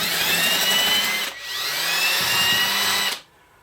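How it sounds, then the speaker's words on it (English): A coarse brass wire brush scrubs oxidation from a brass shell casing, making a loud, close, high whirring rasp in two sustained bursts separated by a brief dip before stopping abruptly. "I'm going to use the brass brush and get rid of most of the, well, hopefully most of the oxidization that's on it."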